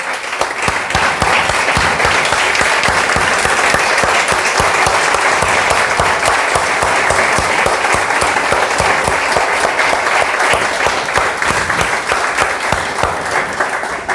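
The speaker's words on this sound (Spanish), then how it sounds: "este aplauso es para el Señor" A standing church congregation breaks into loud, sustained applause, a dense and vigorous crowd of clapping hands that stays strong and even for the whole stretch.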